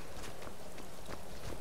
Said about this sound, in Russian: Лошадь лучше всего бегает по горам.